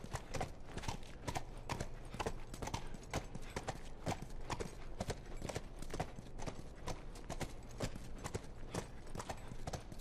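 Horse hooves clip-clopping steadily in The Last of Us, a brisk even rhythm of close, crisp hoof strikes on a university campus, continuous and unbroken.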